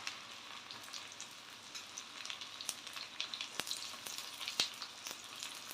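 Dried red chillies and onion sautéing in hot oil in a pan, a steady soft sizzle with scattered crackles and pops, fairly quiet and close, with no talking.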